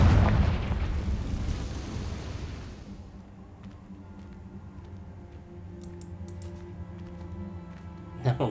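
A Confringo blasting spell in the video game Hogwarts Legacy explodes at once with a loud, rumbling blast that slowly fades over a few seconds into quieter ambience, with a small burst of crackle near the end.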